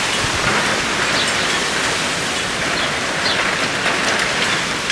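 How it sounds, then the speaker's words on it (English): Steady, loud rain pours down during a storm, a dense continuous hiss of drops on surfaces with no voices. "it has just started to rain, the power's gone out"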